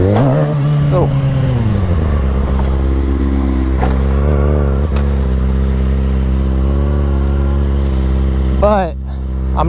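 A Kawasaki 636 stunt motorcycle engine runs loud and close with a steady low drone, rising and falling as the rider revs it during a first practice ride, and there are occasional brief rev swells.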